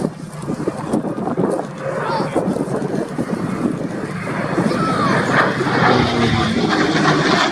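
A P-51 Mustang piston-engined propeller fighter roars past at an air display, a loud sustained engine drone mixed with wind buffeting on the microphone.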